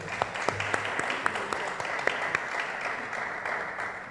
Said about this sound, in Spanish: Les agradecemos con un aplauso entonces a todos.